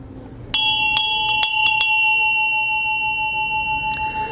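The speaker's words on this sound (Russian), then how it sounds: "И следующий символ – кханта, колокольчик" A ghanta ritual hand bell rings bright and clear with several quick strikes in a row, then its metallic tone rings on alone and slowly fades.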